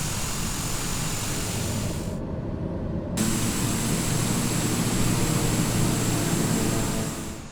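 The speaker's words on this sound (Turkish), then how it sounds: "motor çalıştı" An aircraft engine in Microsoft Flight Simulator hums and roars as a steady broadband drone, with a brief dip in the high hiss before it settles back to a constant whine, alone with no voices.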